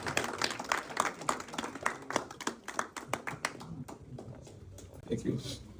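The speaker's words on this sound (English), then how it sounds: "Let's give them a round of applause." An audience at a testimony event claps in a dense patter of applause that fades gradually, moderately distant, with speech mixed in.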